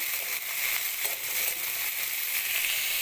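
Washed vegetables hiss and sizzle as they stir-fry in hot oil with garlic in a pan, a steady close crackle with no talking.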